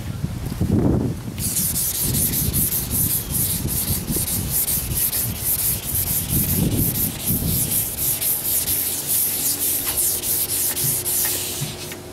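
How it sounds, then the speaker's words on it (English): Rhythmic rubbing and scrubbing with 400-grit wet sandpaper on a sanding sponge, dipped in soapy water, on motorcycle paintwork; repeated back-and-forth strokes close up with a soft hiss. "Got some 400 grit wet sandpaper. Got it on a sanding sponge."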